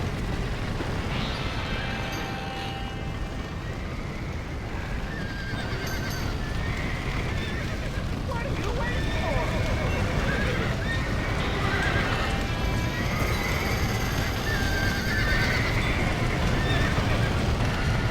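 Horses in Red Dead Redemption neigh and whinny repeatedly amid clip-clopping hooves and a steady roar of commotion, with shouting voices throughout.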